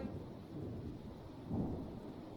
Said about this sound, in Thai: มีฝนตกเลย